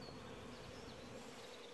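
Honeybees buzz steadily around an open hive near the queen, a dense, continuous close-up drone with no talk.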